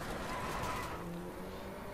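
A car drifting in the Driveclub racing video game, with a faint, steady engine drone and soft tyre skidding running continuously at low volume.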